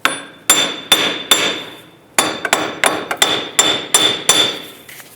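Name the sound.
hammer tapping wheel hub off Jeep Grand Cherokee knuckle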